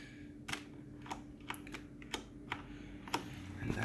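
An artisan Cherry MX keycap clicks as it is pulled from a keyboard switch and pressed onto another, a series of sharp, quiet plastic ticks and taps close by in a hushed room.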